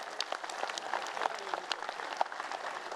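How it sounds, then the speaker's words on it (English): Steady applause from a crowd at a League of Legends esports match in Warsaw, dense clapping holding at an even level for a few seconds with no voices standing out. "Big round of applause for M5."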